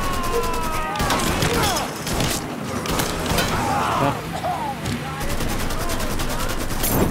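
Rapid gunfire in the video game Mafia 3, bursts of automatic shots and fusillades crackling loudly through a chaotic firefight, with a player's voice shouting over it at moments.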